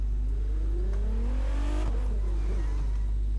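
A fast car engine in The Crew 2 racing game revs and climbs in pitch, easing off and rising again over a steady low hum, with no one talking.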